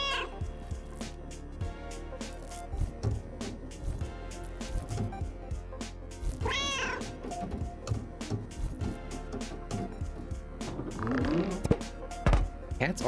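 A cat meows in a video game about a physics-breaking cat burglar, a short rising call heard over steady game music and background sounds, with a person talking throughout.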